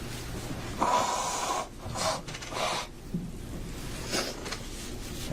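A man in a courtroom gives a few short, breathy nasal blows and snorts in bursts separated by pauses, close and moderately loud, with light rustling around them.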